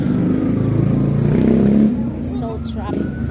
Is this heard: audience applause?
no